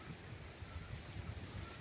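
Gusty wind during a storm sweeps across a one-hectare mango farm in Liliw, Laguna, producing a dense, steady roar that buffets the microphone throughout.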